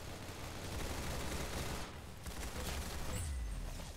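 Gunfire in the Roblox shooter Arsenal, a dense, continuous crackle of overlapping shots and battle noise at steady loudness with brief dips and no voices.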